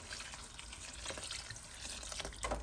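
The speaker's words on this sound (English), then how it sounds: "Now what I'll do is I'll go ahead and add some water." Water splashes and gurgles steadily as it's poured into a cooking pot of soya chunk curry, a soft continuous stream with occasional sharper splashes.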